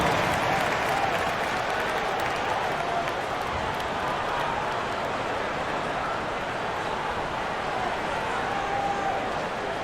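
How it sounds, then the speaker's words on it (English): Steady crowd applause and cheering in an NBA 2K25 basketball video game fills the space for the full stretch, loud and continuous, with a faint arena murmur underneath. "Give yourself a round of applause."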